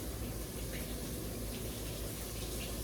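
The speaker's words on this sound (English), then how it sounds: "I'm gonna strain it, and I'm gonna rinse it off" Cold tap water runs steadily over pasta being rinsed in a strainer, a continuous faint splashing gush with no pauses or talking.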